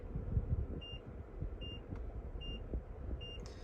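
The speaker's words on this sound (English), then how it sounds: "you will see that the parking sensors will begin to beep at us" Four short electronic beeps from a 2022 Mazda CX-9's parking sensors repeat at a steady interval over a low engine rumble, clear and close.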